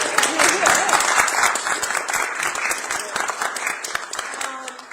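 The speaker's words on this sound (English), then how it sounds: "Well, and I'll clap again because you're still new in your role." Applause from an audience at a public funding event, a burst of many hands clapping loudly that gradually thins and fades over several seconds.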